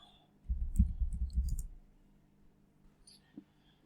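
Brief burst of computer key clicks as a search word is typed, close and moderately loud for about a second, then near silence with a faint click afterward.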